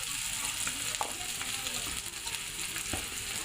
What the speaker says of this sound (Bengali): পেঁয়াজটা ভাজা হয়ে একটু লাল লাল হয়ে যায়